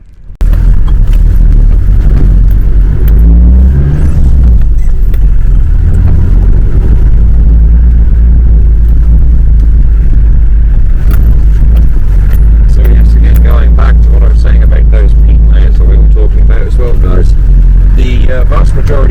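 A vehicle drives over peat in the Falklands, its deep, loud rumble and road noise steady under close talking voices, with rattling and jolts picking up toward the end.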